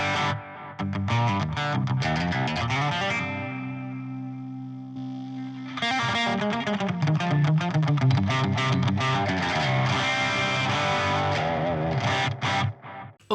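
Electric guitar played through a BOSS GX-100 digital pedalboard with reverb off, dry overdriven chords and sustained notes, a held chord ringing out before busier strummed and picked passages, loud and up close without talk.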